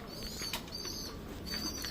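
Soft pigeon coos and a few brief wing flutters over a steady background hiss, fairly close, with no voices.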